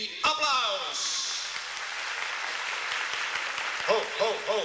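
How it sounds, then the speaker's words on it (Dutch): A gala audience breaks into sustained applause on cue, a broad steady roar of clapping with a sharp shout at the start and a voice cutting in near the end. "1, 2, 3, applaus!"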